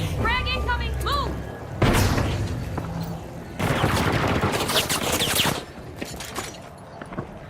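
Gunfire and explosions in a first-person shooter video game: loud broadband bursts and rapid fire in several clusters, with heavy blasts in the middle before the noise thins out near the end.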